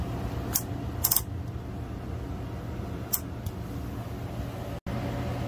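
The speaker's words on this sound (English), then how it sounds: "you do have the height adjuster that it comes with. So if you click it, it goes down. And if you pull it, it goes up." Plastic height adjuster on a FECiDA dimmable 130W LED grow light clicking, a few sharp separate clicks spaced over several seconds against a steady fan-like hum, with one brief dropout near the end.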